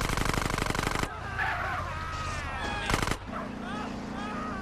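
Drive-by gunfire in the video game GTA San Andreas: a loud burst of rapid automatic shots at the start, then a second short burst near the end, with game engine and traffic noise in between.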